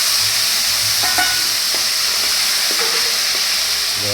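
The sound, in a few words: tomatoes added to cumin and asafoetida, frying and stirred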